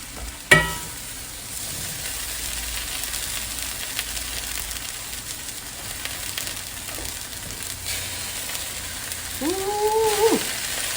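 Onions, tomatoes and garlic toast in a hot pan with a steady close sizzle, broken by a sharp clatter at the start and occasional stirring scrapes.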